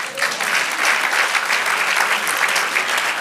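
A church congregation claps in praise, producing loud, dense, continuous applause from many hands that stays even from start to finish.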